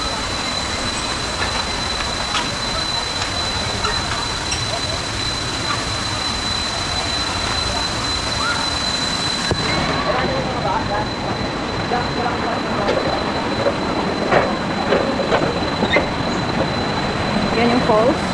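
Steady broadband rush of Tanawan Falls pouring continuously in the background, loud and unbroken, with a tonal hiss and occasional voices mixed in.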